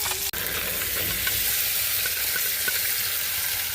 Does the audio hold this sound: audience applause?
no